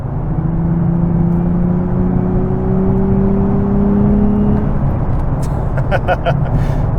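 A 2023 Nissan Z with a manual gearbox accelerates in fifth gear, its engine a loud, steady drone that climbs slowly in pitch, heard close from inside the car with a few light taps near the end.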